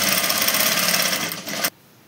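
Sewing machine stitching a semi patiyala garment, a close, rapid, steady motor whir lasting under two seconds before stopping abruptly.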